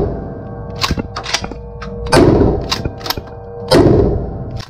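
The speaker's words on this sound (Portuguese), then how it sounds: "pra vocês verem melhor como é essa experiência do tiro, eu coloquei o alvo aí" A pump-action shotgun fires slugs at a target outdoors, with two heavy, booming shots about a second and a half apart, each trailing into a long rumbling decay, among several sharper nearby cracks and knocks.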